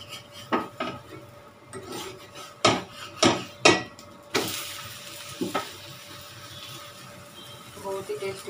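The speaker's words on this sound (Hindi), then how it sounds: "मैं इस पे घी लगा रही हूँ।" Ghee is spread on a pizza paratha cooking on a pan, with soft scraping and several sharp clinks of a utensil against the pan, a faint sizzle underneath.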